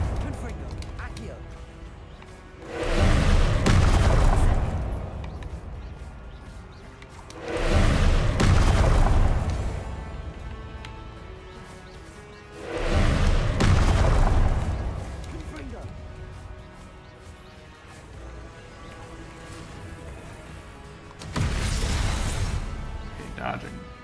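Repeated Confringo fire spells exploding in the video game Hogwarts Legacy, four heavy booming blasts a few seconds apart, each a loud broadband burst fading into rumble, with gameplay sound continuing between them.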